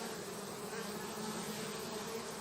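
Honey bees gathered at a hive entrance, a dense continuous buzzing drone, faint but steady throughout with no talk.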